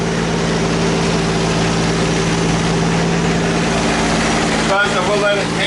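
A Nissan Skyline R32 GTST engine idles steadily and close by, with an even low rumble and a couple of brief knocks near the end.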